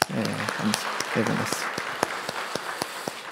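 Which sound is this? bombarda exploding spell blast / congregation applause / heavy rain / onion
congregation applause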